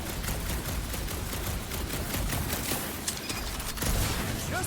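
Rapid gunfire from a Guardians of the Galaxy video game, a dense fusillade of shots layered over busy game noise, steady and loud throughout with a few sharper bursts near the end.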